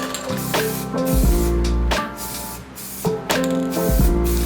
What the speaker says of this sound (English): They recommend spraying a few mist coats within 10 minutes of each other.